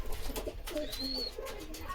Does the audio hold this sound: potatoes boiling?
no